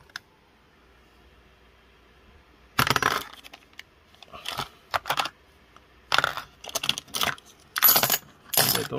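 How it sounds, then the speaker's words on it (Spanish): Chuck E. Cheese metal coin tokens jangle and clink in handfuls, in bursts of loud, close clattering after a quiet opening, repeated several times. "Son monedas de Chuck E. Cheese."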